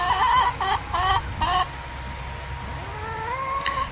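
Chickens cluck and squawk in a few short, loud bursts at an outdoor Florida flea market where poultry, ducks and turkeys are sold, followed by quieter calls over steady background noise.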